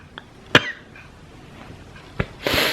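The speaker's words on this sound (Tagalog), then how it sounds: "mukhang papasa na naman sa kanya yung ubo" Someone with a sore throat gives two short, sharp coughs a couple of seconds apart indoors, followed by a brief rough burst of breath.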